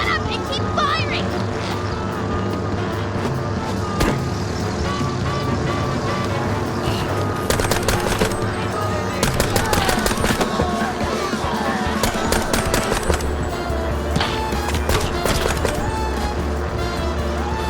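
Rapid bursts of gunfire in the 1930s-style first-person shooter Mouse: P.I. For Hire, dense and continuous over a steady game soundtrack, with voices talking in between.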